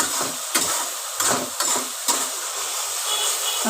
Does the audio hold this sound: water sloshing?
no